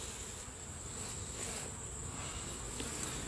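Honey bees hum in a steady, soft drone during a nuc hive inspection, a faint continuous buzz with no voices.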